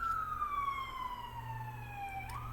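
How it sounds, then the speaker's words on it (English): A distant emergency vehicle siren wails in the background, a single falling tone over low steady hum, faint and alone. "You hear the siren in the background."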